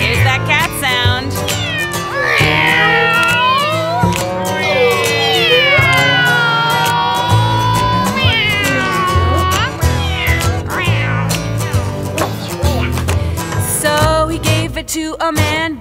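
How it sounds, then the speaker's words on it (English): Loud, drawn-out cat meows repeat one after another, rising and falling in pitch, with some background clatter and no talking. "Here's that cat sound."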